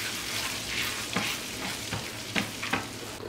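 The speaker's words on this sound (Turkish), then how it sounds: "Hemen üzerine tereyağı bir nane yakayım." Butter and mint sizzle and crackle steadily in a pan, with a few soft scraping stirs over the frying hiss.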